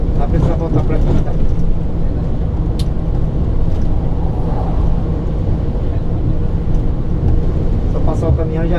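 A Busscar DD 1800 double-decker bus cruises along a highway, its engine and road noise forming a loud, steady low rumble from inside the cab, with occasional faint clicks above it.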